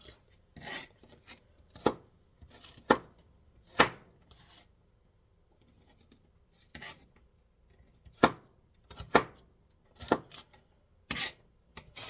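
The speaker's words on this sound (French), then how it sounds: "je coupe les légumes à peu près gros comme ça" A knife chops vegetables for a dish of leftover pork picnic shoulder, sharp separate strokes on a board coming in small irregular bursts, close and crisp, with quiet pauses between the cuts and no talk.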